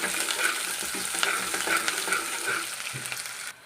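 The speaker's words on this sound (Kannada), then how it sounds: "ಸ್ವಲ್ಪನೇ ಕರಿಬೇವು ಸೊಪ್ಪನ್ನು ಸಹ ಹಾಕ್ತಾಯಿದ್ದೇನೆ ಇದನ್ನು ಸ್ವಲ್ಪ ಚೆನ್ನಾಗಿ ಮಿಕ್ಸ್ ಮಾಡೋಣ" Onions and curry leaves stirred in a hot frying pan for a cluster bean and potato stir-fry, giving a steady close sizzle with repeated scraping strokes of the spoon, no voices.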